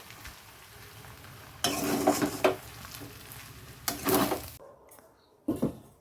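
Potato and vegetable chow mein stirred in a pan, bursts of sizzling and scraping in three spells separated by quieter moments, near and fairly loud with no talk.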